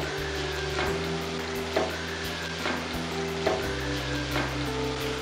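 Tomatoes sizzle and fry in Koli-style spicy mutton kheema masala, the steady frying hiss broken by a few soft scrapes of stirring, close and continuous with no talking.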